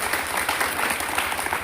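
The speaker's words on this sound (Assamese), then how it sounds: "এতিয়া হাত চাপৰি হ'ব লাগে।" An audience at a foundation day celebration of a Nagara Naam Sangha in Kamrup applauds steadily, giving a dense, even wash of clapping throughout.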